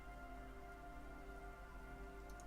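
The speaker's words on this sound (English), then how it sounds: "it started to rain" Steady, soft rainfall hisses in the video game Disco Elysium. It is a faint, even wash of drops with no voices.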